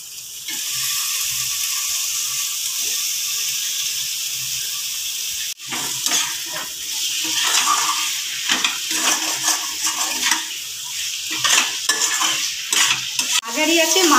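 Prawns rubbed with salt and turmeric sauté in oil in a pan for pulao. A steady hissing sizzle gives way to close, irregular scraping and stirring strokes with crackling bursts.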